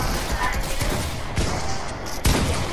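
Bursts of rapid gunfire crackle and boom through a dense, noisy Gorilla Tag-free shooter game soundscape, with a few sharper shots standing out near the end.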